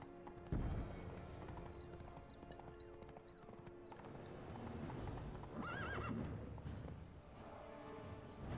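Roach, Geralt's horse in The Witcher 3, gallops with close, continuous clip-clop hoofbeats and gives a clear whinny partway through, amid rustling game sounds.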